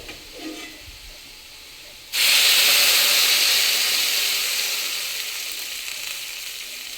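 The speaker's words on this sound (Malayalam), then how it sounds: "ഇനി നമുക്ക് ഇതിനകത്തോട്ട് തിളച്ച വെള്ളം ആഡ് ചെയ്യാം." Boiling water poured onto roasted urad dal in a pan sets off a sudden loud hiss and sizzle after a quiet moment, then a sustained steamy bubbling that slowly fades.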